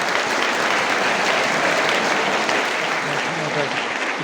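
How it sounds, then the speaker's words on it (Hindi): Sustained, dense audience applause at a school farewell function, steady and loud throughout with no pauses or voices standing out. "तालियां जोर से बजाओ"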